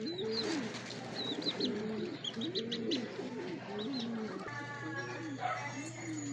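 A racing pigeon, a white-feathered bird kept in a loft, gives repeated soft, throaty coos in a steady rhythm, close to the listener, with faint chirps from other birds in the background.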